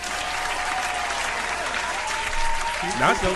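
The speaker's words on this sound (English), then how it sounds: "Hold on, I gotta give you a clap for that." Applause from a crowd during a motivational talk, a steady wash of clapping with a voice briefly heard toward the end.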